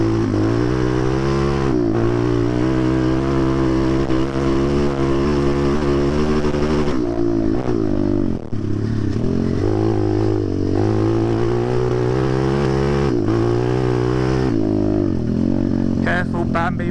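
A Zongshen 190 pit bike engine revs loudly and continuously while being ridden on slippery ground, its pitch rising and falling with throttle blips and brief dips, the engine noise filling the whole stretch.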